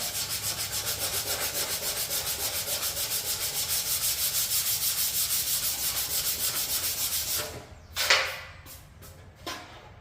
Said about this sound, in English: Good old-fashioned hand sand.